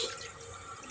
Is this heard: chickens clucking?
no